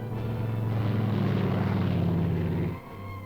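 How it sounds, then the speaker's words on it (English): An ambulance propeller plane's engine drones loudly and steadily with a low throbbing hum as it takes off down a runway, then briefly drops in power before resuming near the end. "A wave from the pilot before the plane darts down the runway."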